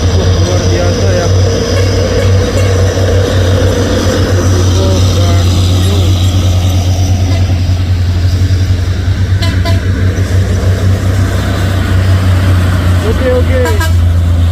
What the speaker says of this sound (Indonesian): truk berat menanjak bosku